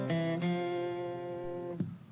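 A stringed instrument, from a 1987 folk lesson by John Pearse, plays a closing bar of The Storms Are on the Ocean: a few sustained, ringing chords with fresh strums near the start and a final pluck, alone and fairly close.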